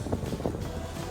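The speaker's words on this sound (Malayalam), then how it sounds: "നല്ല കാറ്റും തണുപ്പും ഉണ്ട്" Wind at Charyn Canyon in Kazakhstan, a brief rushing gust buffeting the microphone as a low, uneven rumble with no voices.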